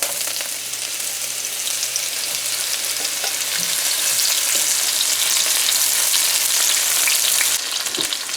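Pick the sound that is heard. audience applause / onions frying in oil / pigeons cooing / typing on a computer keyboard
onions frying in oil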